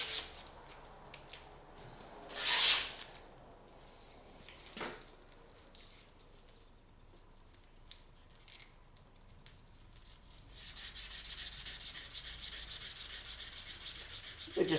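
Corrosion is abraded off a car's slotted ABS reluctor ring down to bare metal. A short, harsh scraping burst comes early, then a sustained gritty rubbing sets in for the final few seconds.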